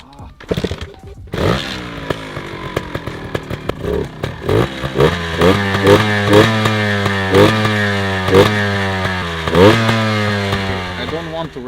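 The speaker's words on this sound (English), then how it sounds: "It has a pretty nice 2-stroke sound." A 2-stroke motorcycle engine on a cold start coughs and sputters a few times, then catches and settles into a loud, close, buzzy idle with small rises in revs, along with faint clatter.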